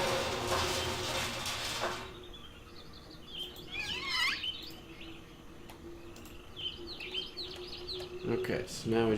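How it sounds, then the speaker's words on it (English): Birds chirp and trill in the video game realMyst, with bright twittering calls rising and falling across the middle of the stretch over a steady ambient bed. The calls are moderately near but not loud. "Like now it's just birds."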